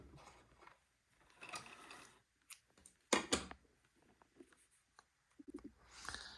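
Mechanical clatter from a sewing machine zigzag-stitching fabric during repair of an antique baptismal gown, coming in short intermittent bursts of stitching separated by pauses, close and moderately loud.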